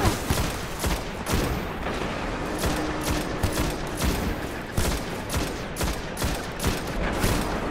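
Rapid automatic fire from the player's gun in Destiny: Rise of Iron, close and loud, coming in repeated bursts of shots separated by brief gaps.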